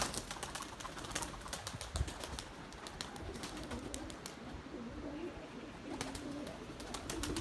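Pigeons coo softly in the distance amid gusty wind noise and faint rustling, with no one talking.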